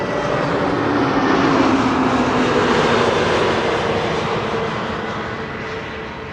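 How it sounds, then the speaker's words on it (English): An easyJet Airbus A320neo arriving from London Gatwick lands at Schiphol, a smooth broadband engine roar that swells slightly and then gradually fades as the aircraft passes, with no voices. "EasyJet A320neo arriving from London Gatwick."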